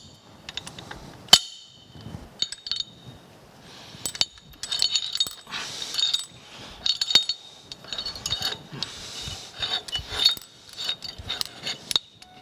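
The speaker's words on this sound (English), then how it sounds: "And it screws off." Part of the rapid traverse clutch pack on a Kearney & Trecker 2H horizontal mill is unscrewed, with close metallic clinks, ratchety clicks and scraping of steel parts, irregular and sharp against a quiet workshop background.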